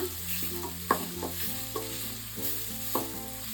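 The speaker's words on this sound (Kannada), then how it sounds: "ಹಾಕ್ಕೊಂಡು ಚೆನ್ನಾಗಿ ಎಣ್ಣೆನಲ್ಲಿ ಫ್ರೈ ಮಾಡ್ಕೊಳ್ಳೋಣ" Crushed thick garlic cloves fry in oil in a pan for a Tamil Nadu-style eggplant tamarind gojju, giving a steady sizzle with the clatter of stirring over a low hum.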